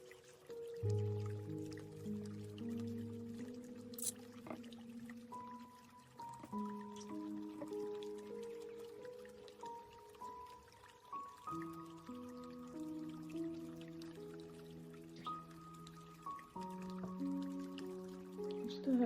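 Liquid pours and bubbles into a snow globe tumbler, a quiet trickling fill with gurgling, rising tones as the cup fills up, heard close and faint without talk.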